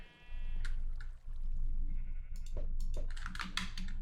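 Sheep bleating a few times on a sheep farm in a Minecraft-style survival multiplayer game, over a steady low musical drone and clicking sounds, with a game-like electronic texture.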